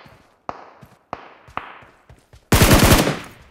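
Gunfire in the mobile battle game PUBG Mobile: several sharp single shots spaced apart, then a loud rapid automatic burst of about a second that fades out.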